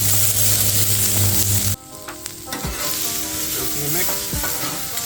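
Garlic hits a hot pan for Thai beef basil pad kra pao, giving a loud, steady sizzle that drops suddenly partway through, then continues as a softer crackling fry with a few stirring scrapes.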